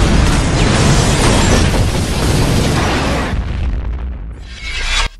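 A huge explosion tears through a ferry in New Orleans, a loud sustained roaring blast with rumbling debris that dominates for several seconds before dying down, then a brief surge of noise near the end.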